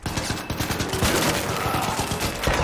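Rapid bursts of automatic gunfire in an online multiplayer shooter, loud and continuous with sharp repeated shots rattling throughout, no voices over it.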